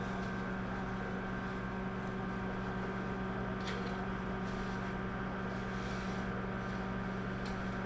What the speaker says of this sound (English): Watch it in the microwave, see what it do